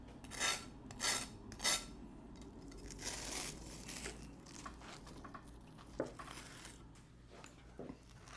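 A knife saws through a toasted tuna melt on a cutting board: three crisp rasping strokes up front, then softer scraping and a few light knocks, close and fairly quiet.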